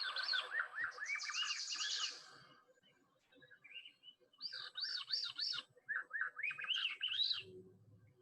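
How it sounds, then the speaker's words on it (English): Swainson's thrush song played back from a recording, a Pacific Northwest migrant, with clear rising flute-like spiraling phrases repeated several times, fairly faint and alone, separated by brief gaps. "Here's the sound of a Swainson's thrush,"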